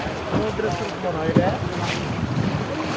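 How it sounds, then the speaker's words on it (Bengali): Choppy river water at Jaflong, Sylhet, a steady rushing wash with wind buffeting the microphone, moderately loud and continuous, with faint voices in the background. "প্রচুর ঢেউ।"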